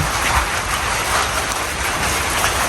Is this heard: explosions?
no